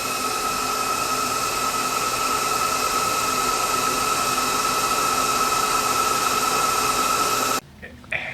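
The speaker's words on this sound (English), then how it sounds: "That was the sound of one of our network closets." Network equipment in a network closet gives off a steady hum and whine. A constant broadband fan rush carries a clear high tonal whine for most of the stretch, then cuts off abruptly near the end.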